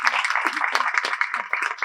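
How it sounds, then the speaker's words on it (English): A conference audience claps as a university panel moderator is introduced, a dense, steady wash of many hands close by and sustained throughout, with no voices over it. "please give a big round of applause for Sumiko"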